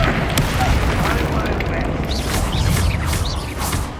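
The Confringo spell in Hogwarts Legacy sets off game explosions, loud rumbling blasts with crackling bursts layered through the scene, while combat sounds and a character's voice carry over the top.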